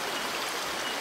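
A river stream flows beside a family campsite with tents, giving a steady, close rush of running water with no voices.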